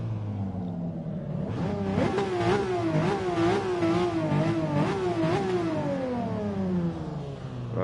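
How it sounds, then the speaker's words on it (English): A 1961 Ferrari 250 GT engine revs up hard from idle, pitch climbing and wavering through repeated throttle blips before settling back, loud and close with no talk. "Can you hear my car revving?"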